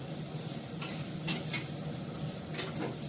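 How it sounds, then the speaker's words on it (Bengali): Pumpkin frying in a pan with dried chillies makes a soft, continuous sizzle, broken by four or five sharp clinks and scrapes of a spoon stirring against the pan. "আমার কুমড়ো ভাজাটা হয়ে গেছে"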